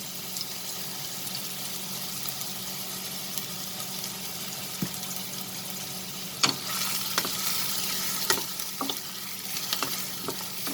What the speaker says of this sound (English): Now friends, as you can see, the oil is heated. I will add the chopped onions